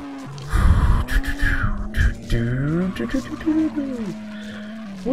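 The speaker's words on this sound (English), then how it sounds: "Really bad car sounding noises." A Nissan Skyline R32 races in the video game Juiced on PSP, with shifting engine pitch and tire skids sweeping up and down over several seconds, mixed with game effects.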